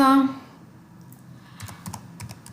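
Typing a string on a computer keyboard, a brief tonal sound at the start giving way to quiet, then a burst of close, crisp key clicks in quick succession.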